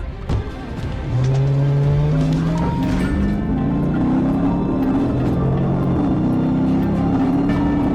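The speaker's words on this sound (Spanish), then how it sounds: "pisó el acelerador, iniciando una persecución a alta velocidad" A car accelerates hard during a high-speed police chase, its engine note climbing steadily and loud over tire noise, nearly continuous after a brief opening thump.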